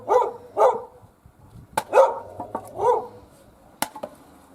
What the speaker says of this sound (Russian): Собачка у них лает.